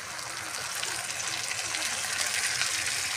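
A small splash of water going into a pan of frying onions and poppy seed paste for Bengali peyaz posto, giving a steady, bright hiss and gush that holds evenly throughout without any voices.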